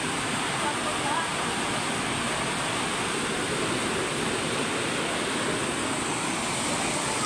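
Flood water spills over a bridge in a loud, constant rushing roar like a waterfall, steady throughout without a break.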